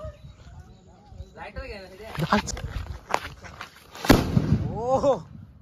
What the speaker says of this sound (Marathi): या बॉम्बचं नाव काय? Atom bomb.